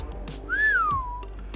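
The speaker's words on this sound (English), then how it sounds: "You guys are gonna have to listen to me whistle a lot" A person whistles a single rising-then-falling tone lasting about a second, moderately loud and clear over quiet background noise during a gaming stream.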